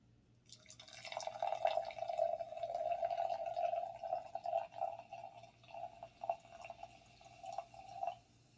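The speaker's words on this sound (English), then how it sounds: "Just gonna pour a little bit." Stella Rosa pineapple wine poured into a glass, a soft, close, steady gurgling trickle lasting several seconds that thins into a few drips at the end.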